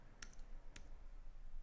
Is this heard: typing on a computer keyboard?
yes